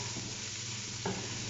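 Garlic sizzles in cooking oil in a pan for a Filipino pasta dish with hotdog, a brief steady frying hiss with one soft stir or clink near the end.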